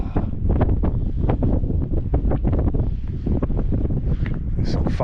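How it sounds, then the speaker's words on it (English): Cold wind gusting outdoors at a large reservoir dam site in Wales, a loud continuous roar buffeting the microphone with rushing, uneven gusts throughout. "that wind's cold here"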